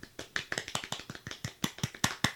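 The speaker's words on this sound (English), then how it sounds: "I'm clapping normal." Hands clapping at a normal pace, about a dozen sharp, close claps in a steady, slightly quickening rhythm, heard alone.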